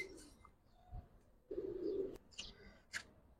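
Silver and Jabra Giribaz pigeons cooing, with a clear low coo swelling in the middle and a few faint chirps around it, close by and without talk.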